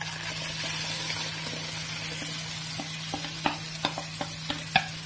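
Tomato puree and onions stirred in a pan, with a constant low sizzle and a spoon scraping the pan in quickening strokes toward the end, close and fairly quiet.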